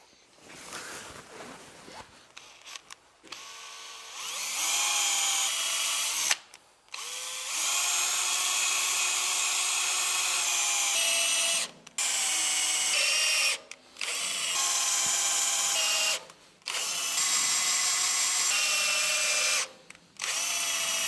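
A small cordless drill whirs steadily in long bursts, stopping and restarting several times as screws are driven while replacing tines on a 4-metre tractor cultivator, close and loud.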